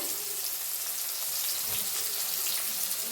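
Chopped onion and crushed garlic sizzle in a hot pan, a steady, close hiss of frying with no pauses and no one talking.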